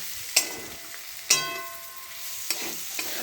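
Whole spices crackle and pop in hot oil for chickpea dal, sharp sizzling bursts at a steady pace with stirring scrapes between them, close by and with no voices.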